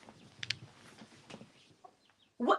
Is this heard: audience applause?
no